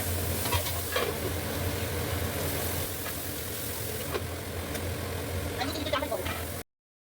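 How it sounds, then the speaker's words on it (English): Chopped onion stirred through a hot pan while making esar uppom, a steady frying sizzle with scraping stirs, fairly close, a few vocal sounds over it. "Now I'm going to add the onion."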